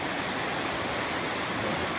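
The Quinapoxet River, swollen after heavy rain, rushes along beside a rail trail as a dense, constant hiss of flowing water with no pauses or voices.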